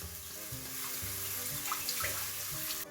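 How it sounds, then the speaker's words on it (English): Clam juice pours steadily into a hot pan just deglazed while cooking bacon-wrapped shrimp, a close, continuous splashing gurgle lasting a few seconds. "Gonna add some clam juice,"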